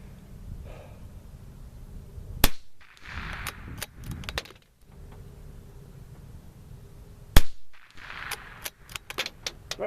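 Two sharp, loud reports from a Savage Mk II FV-SR .22 rifle fired with standard velocity ammo outdoors, several seconds apart, each followed by clicks and clatter of working the bolt.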